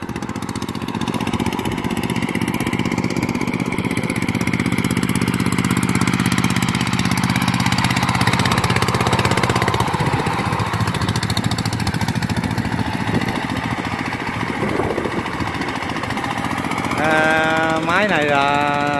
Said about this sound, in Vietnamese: Máy này là động cơ Kubota 140 nha.